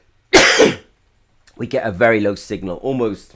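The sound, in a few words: coughing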